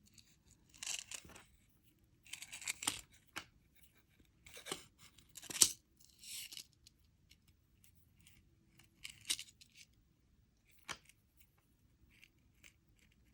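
Small cutters snip jewellery chain and wire in a handful of brief, crisp metallic clicks spaced by quiet pauses, close and fairly soft, with light handling rustle between cuts.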